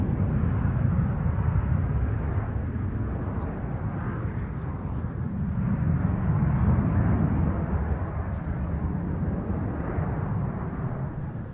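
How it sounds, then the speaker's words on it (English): An aircraft flown by Kev Rumens arriving at the RIAT airshow, with a steady deep engine roar and rumble that stays loud and continuous throughout, no voices. "flying in the way that we know Kev Rumens likes to"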